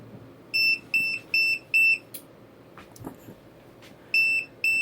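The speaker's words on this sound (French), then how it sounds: "vous avez entendu les bips qui nous signalent que le système est opérationnel" A string of short, sharp electronic beeps, four in quick succession, a pause with a few clicks, then two more beeps.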